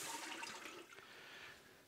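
Water being poured into a Cosori Instant Pot multi cooker, a soft, faint splashing rush lasting under two seconds and heard alone.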